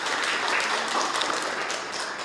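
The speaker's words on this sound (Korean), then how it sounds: "한번 자리에 일어나 주시고 우리 격려의 박수 한번 쳐주시면 고맙겠습니다." Congregation in a church giving a round of encouraging applause, a steady dense wash of many hands clapping at moderate distance, sustained for a couple of seconds with no talk over it.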